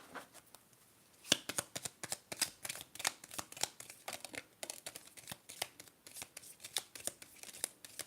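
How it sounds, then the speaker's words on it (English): Tea leaf tarot cards get shuffled in a quick run of crisp, soft flicks and riffles, close and quiet against near silence. "I'm trying to get the tea leaf cards and mix these up."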